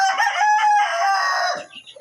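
A gamefowl rooster crows once, loud and close, a long strained cock-a-doodle-doo that trails off into a few faint softer sounds.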